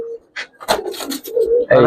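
Giribaz pangkhi pigeons give brief, close, throaty coos in short bursts, mixed with rustling handling noise.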